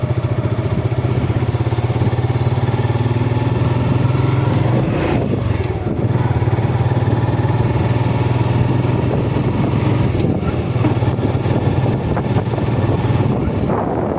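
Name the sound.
motorcycle riding on road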